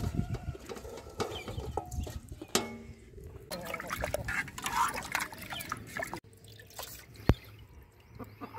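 Cut fish, for a masala tawa fry, is rinsed in water: irregular splashes, drips and trickles with handling clatter, moderately close, and quieter background sounds between.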